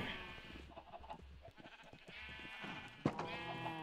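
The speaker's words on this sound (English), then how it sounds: "Now to get that sheep into his pen." Sheep bleating in Minecraft, a few blocky game bleats over a steady background game sound, with one sharper, louder bleat near the end.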